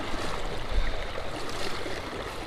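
Someone wades across a flowing stream at knee to thigh depth. Close, steady rushing and churning water fills the whole stretch, with no voices.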